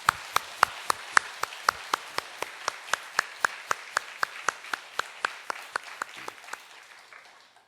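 A church congregation gives a conductor a round of applause, heard as evenly spaced, loud hand claps in a slow unison rhythm that gradually fade toward the end.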